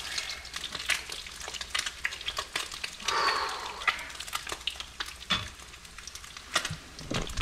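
Fresh blue crab cakes frying in a pan, a continuous sizzle and spatter with scattered pops and a brief clatter, moderately close and without speech.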